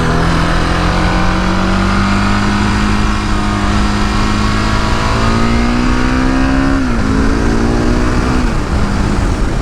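A KTM 701 big bore single-cylinder dual sport motorcycle engine drones close up while riding, a loud continuous high-pitched buzz that holds steady then rises briefly before dipping with a gear change, no voices.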